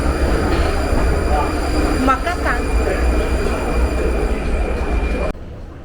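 A Prague metro train rides underground with a loud, constant rumble and rattle of wheels on track, plus a brief squeal, while a voice talks briefly over the noise before it cuts off abruptly near the end.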